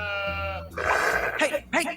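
A sheep bleats with a wavering, harmonic cry at close range, followed by a voice speaking over the scene.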